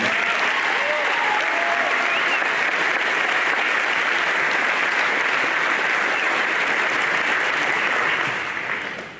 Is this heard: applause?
yes